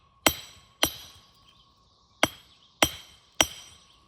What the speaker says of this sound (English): I'm using a tracer and a stone hammer to trace a line and try to get the stone to break